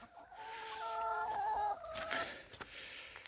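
Hens cluck and murmur steadily inside a dirty backyard chicken coop. The calls are moderately close, with overlapping drawn-out vocalizations and a few sharper clucks. Quiet background rustling is also present, and no one speaks.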